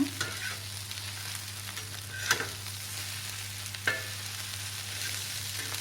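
Kothu parotta frying and being mixed on a tawa, a continuous sizzle with a few sharp metal scrapes and clinks over a steady low hum.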